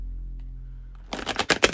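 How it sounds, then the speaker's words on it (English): A deck of tarot cards being shuffled up close, a quiet lead-in giving way to a quick burst of crisp, riffling flutters that rise and fall over the last second or so. "do a good old shuffle or two."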